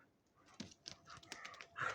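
A dog gives short barks and pants close by, fairly quiet, with soft background noise and no talk.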